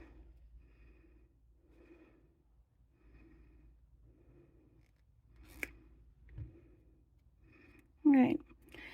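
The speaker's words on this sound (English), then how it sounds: "I'm just gonna fold this in half and cut it into 2 equal segments" Cutters make one sharp, close snip through a silversilk pipe chain in an otherwise quiet room, and a loud breath or sniff follows near the end.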